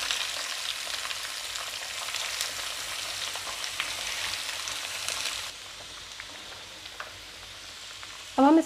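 Pumpkin curry fries in hot oil and is stirred, a steady, close hiss of sizzling that drops in level partway through, ending in a brief scrape at the end.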